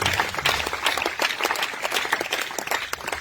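An audience in a church gives dense, continuous applause at a testimony service, clapping steadily throughout at moderate loudness with no pause.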